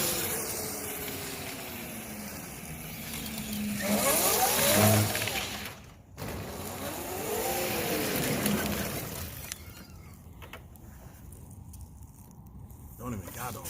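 A 24,000-watt electric go kart with two motors drives past, its rising and falling whine sweeping up and down as it passes twice, moderately loud against outdoor background, with people talking at times.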